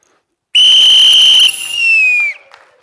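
A single loud, piercing whistle blast rings out alone for nearly two seconds, steady at first and then dipping slightly in pitch before cutting off abruptly.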